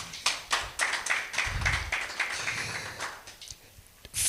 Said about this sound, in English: I think you deserve a big clap for yourself